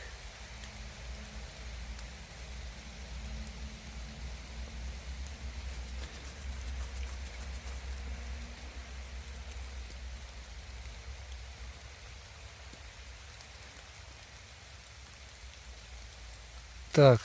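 Soft, steady rain patters continuously at a low level on a forested hillside, a constant hiss with no voices, ending in a brief sharp noise.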